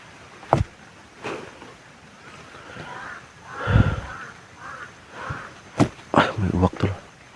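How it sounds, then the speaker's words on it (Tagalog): A crow caws a few times outdoors at a moderate distance, its calls scattered among rustling, handling noises and bursts of nearby talk. "May uwak tol."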